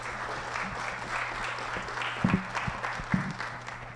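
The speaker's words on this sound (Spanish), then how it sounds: "Nuevamente, un aplauso para todos los panelistas y continuamos." Applause from a conference audience for the panelists at a forum on sustainable development data, a steady, moderately close patter of many hands clapping, with a few louder claps standing out.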